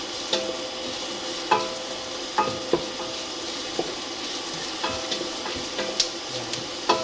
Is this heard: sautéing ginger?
yes